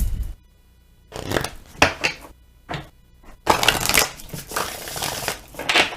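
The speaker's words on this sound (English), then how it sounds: "One last shuffle for you, Gemini." Oracle cards being shuffled by hand, several close, dry riffling bursts separated by short pauses, with a longer continuous shuffle near the end and no talking.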